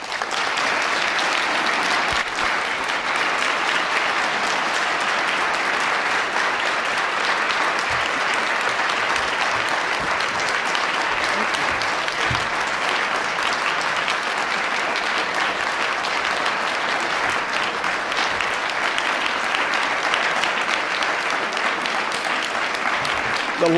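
A large audience at a service award ceremony applauds the Clyde V. Bartlett Award recipient with sustained, dense clapping that stays loud and steady for over twenty seconds, with a few scattered voices mixed in.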